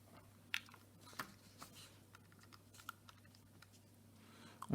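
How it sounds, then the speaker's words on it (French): Calculator keys are pressed in a quiet room, a handful of soft, separate clicks spaced unevenly over a few seconds against a low background hum. "On fait ça à la calculatrice, 215 divisé par 60."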